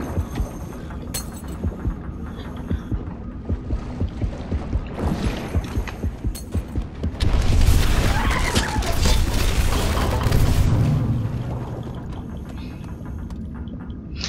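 Explosive blasts from a boom ball in the video game Depth, an underwater shark-versus-divers shooter, bursting loud and rumbling around the middle of a busy game mix with clattering effects.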